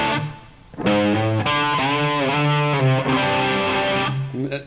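Distorted electric guitar in drop D tuning plays a riff of sliding notes and ringing chords, the slides audibly bending pitch between hits; loud, up close and continuous, with no talking.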